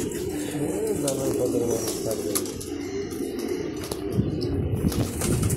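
Racing pigeons of mixed local and foreign breeds fill a Dhaka loft with continuous, overlapping cooing, a steady close chorus with faint voices underneath.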